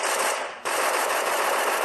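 A rapid-fire gun from a Minecraft gun mod lets off a loud, dense automatic burst, pauses briefly, then resumes in an unbroken rattle.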